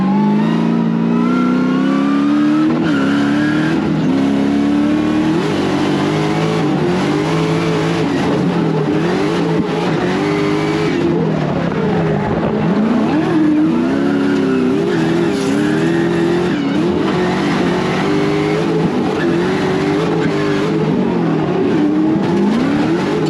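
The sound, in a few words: 700hp competition car engine revving while driving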